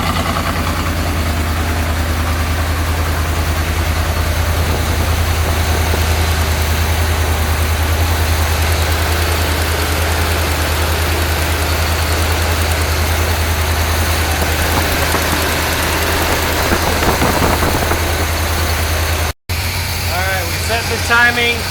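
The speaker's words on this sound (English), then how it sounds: "The exhaust sounds really good." A 1972 Corvette, just revived after sitting abandoned in a field, idles steadily with a deep, rumbling exhaust throughout, up close and fairly loud, with a brief dropout near the end.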